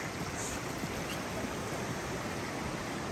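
Rushing water of the McKenzie River, a steady broadband roar of flowing current heard close and loud without pause, no voices over it.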